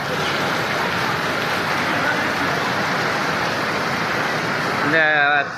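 Steady rain falling in Chennai, a dense continuous hiss of drops across the whole stretch, fairly loud and close, with a short tonal whine at the very end.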